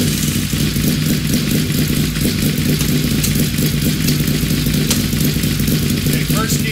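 A Honda VFR750 motorcycle engine runs steadily under power, a continuous loud mid-pitched drone with clattering, close up and without pauses.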